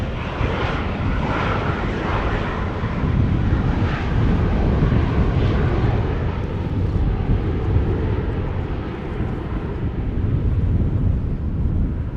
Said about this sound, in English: Embraer is landing on Polderbaan